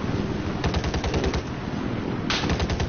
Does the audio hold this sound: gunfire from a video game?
yes